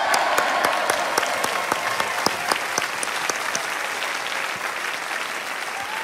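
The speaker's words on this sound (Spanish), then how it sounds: "Vamos a recibir con un aplauso a Taladrí." A studio audience applauds to welcome a guest onto a Spanish-language show, steady close clapping from many hands that holds at an even level throughout.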